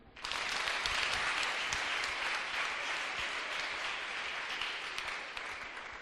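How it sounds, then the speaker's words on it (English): A seminar audience at a health event claps for an arriving speaker, a full, steady burst of many hands that starts abruptly and continues evenly at moderate loudness, tapering slightly near the end. "Can you clap for him?"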